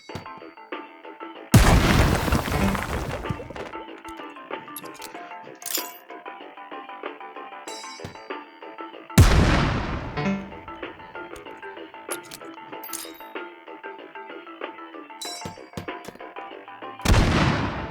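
Three loud, close grenade blasts in H3VR, each a sharp broadband boom with a long rumbling tail, spaced several seconds apart over a steady droning game soundtrack.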